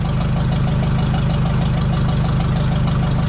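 A 1970 Ford F350 service truck engine runs steadily at idle, a loud, close, continuous low rumble with an even rapid pulse and no voices over it.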